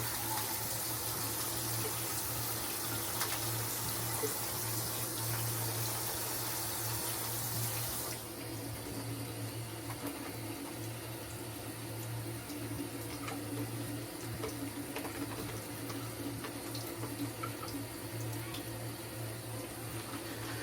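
Tap water runs steadily into a sink while shaving soap is lathered in a bowl, a constant soft hiss that drops slightly in level partway through, with no speech.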